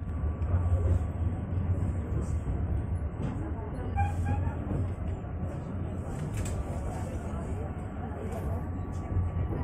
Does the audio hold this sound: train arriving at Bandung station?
yes